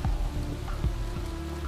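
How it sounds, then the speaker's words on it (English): Steady rain falls in the Australian bush, a dense continuous patter of drops on surfaces with a few heavier low thuds, loud and close throughout. "Until, that is, the rain just gets to be a bit too much."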